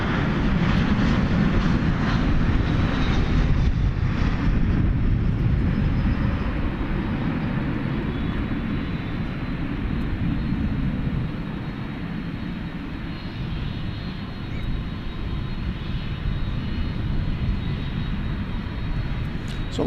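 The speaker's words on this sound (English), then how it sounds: "Got American 1835 and Airbus A321 arriving from the city of" An American Airlines Airbus A321 arriving at night at DFW Airport gives off a steady, broad jet engine roar that stays loud and even throughout, easing slightly partway through.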